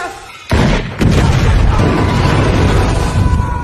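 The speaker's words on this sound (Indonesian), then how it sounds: "meledak bersama dengan balon gas tersebut" A gas-filled parade balloon explodes in a film with a sudden loud boom, followed by a second blast and a sustained heavy roar of fire and debris.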